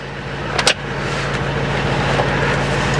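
A Mercedes with a steering angle sensor fault and airbag malfunction warning drives along, giving a steady low engine and road hum with a brief higher transient near the start; no one speaks.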